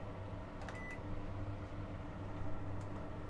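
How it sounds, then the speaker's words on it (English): A microwave oven hums steadily inside an off-grid van with a solar and lithium battery setup while the air conditioner runs, giving a constant broadband drone with faint tonal beeps layered on top. "The microwave running"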